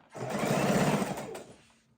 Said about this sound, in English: we're just going to keep on sewing until the stacks are empty